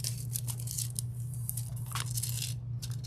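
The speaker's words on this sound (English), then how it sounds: "And we're going to try to cut off the excess carrier." Blade slicing away the excess carrier sheet of layering foil on a DIY tumbler project, a close, dry tearing and crinkling scrape that runs steadily for a few seconds over a constant low hum.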